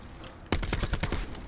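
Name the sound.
gunfire in video game Call of Duty Black Ops 4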